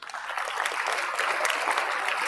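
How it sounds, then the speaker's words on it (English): Steady audience applause at a high school open house, a dense even patter of many hands clapping throughout, fairly close and sustained with no pause. "Let's give her a round of applause."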